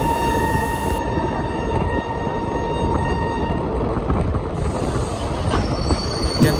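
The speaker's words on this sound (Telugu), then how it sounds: "మిల్క్ ట్యాంకర్స్ క్యారీ చేస్తుంది ఒక ఫ్రైట్ ట్రైన్." Short freight train hauling milk tankers rolls past close by, a continuous loud rumble with screeching wheel squeal and rattling wagons throughout.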